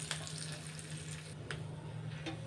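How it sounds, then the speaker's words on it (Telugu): Small dried red chillies and curry leaves fry quietly in hot oil for a dal tempering, giving a faint, even sizzle with a few soft stirring clicks and no talking. "ఈ పోపులు ఇప్పుడు మనం చక్కగా దోరగా వేయిద్దాం."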